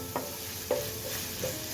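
Onions sautéing in oil in a pan for chicken biriyani give a soft, steady sizzle, broken by three brief stirring scrapes spaced about half a second apart.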